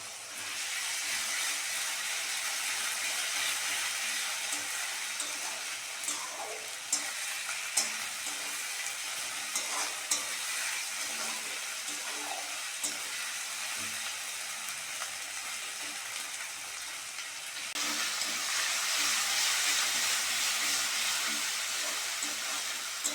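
Garlic and ginger fry with onion and tomato in a steady, loud hiss of sizzling oil. Occasional stirring clicks punctuate it, and the sizzle grows brighter near the end. There is no talk.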